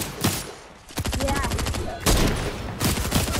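Rapid bursts of automatic gunfire from a bot in the Fortnite video game, loud and close, several volleys of dense repeated shots across the clip.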